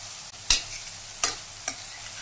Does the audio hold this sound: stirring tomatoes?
yes